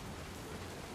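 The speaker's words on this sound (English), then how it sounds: "The rain came down in buckets then" Heavy rain pours down steadily in the What Remains of Edith Finch game, a dense, even hiss of falling water with no other sounds, fairly faint.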